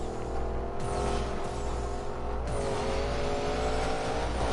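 A Koenigsegg supercar engine roars steadily in a racing video game, sustained and loud with shifting revs and brief gear-change dips, with no voices over it.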